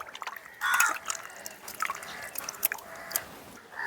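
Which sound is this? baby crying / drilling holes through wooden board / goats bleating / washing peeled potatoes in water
washing peeled potatoes in water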